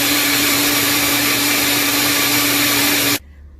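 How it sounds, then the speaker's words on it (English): A kitchen blender whirs at a loud, steady pitch as it purees onion, spring onion, cilantro, ginger and garlic, then cuts off abruptly near the end. "So I'm gonna blend them"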